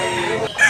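A rooster crows at a chicken farm in Tabunok, Cebu. The call is short, loud and close, with farm noise around it.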